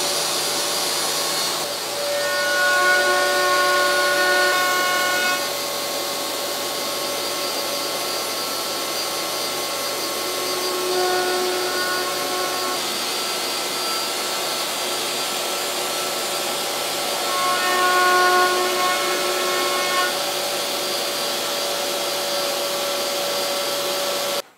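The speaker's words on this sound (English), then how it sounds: "I just need to start the spindle" The spindle of an X-Carve CNC router whines steadily as it cuts wood, with a dust extractor hissing continuously beneath it. The cutting pitch shifts in a few short tonal passes over a constant loud drone.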